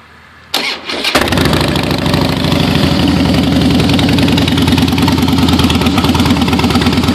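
A 2011 Harley-Davidson Fatboy motorcycle engine cranks briefly and fires up, then settles into a loud, close, steady lumpy idle with a pulsing rumble that continues to the end.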